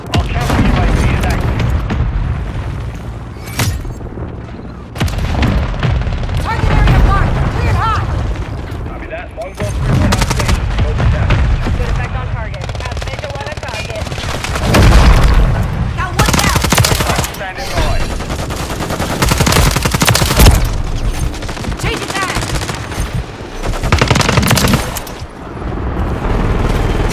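An artillery fire mission in Modern Warfare 3 on the Shipment map brings repeated loud booming impacts mixed with bursts of rapid gunfire throughout, with players talking over the chaos.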